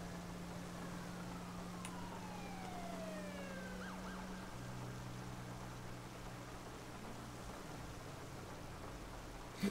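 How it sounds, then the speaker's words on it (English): Police sirens wail in the distance while driving, a steady tone with a gliding rise and fall that carries through the whole stretch at moderate level, ending with a brief louder knock. "There's sirens."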